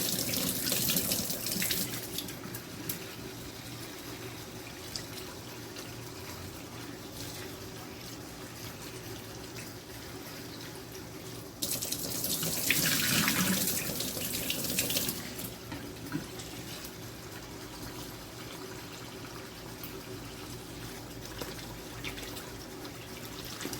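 Rice being washed under a running tap, a steady close rush of water into a pot with a louder splashing stretch partway through, no talk.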